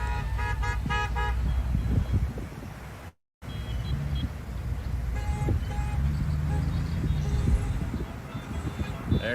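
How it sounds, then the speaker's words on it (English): Convoy vehicles honking as they pull in: repeated horn toots, several short blasts and a longer held one, over steady engine and road noise with people talking nearby. "Usually you hear horn honking when they're pulling into a final destination."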